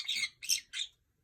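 Pet parrot giving three harsh, raspy squawks in quick succession, close by and fairly quiet, with nothing else audible.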